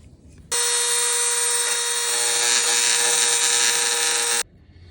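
A power tool trims a plastic console part in a Honda Element for a fitted install, making a loud, steady, high-pitched whining grind that runs about four seconds close up and then cuts off abruptly.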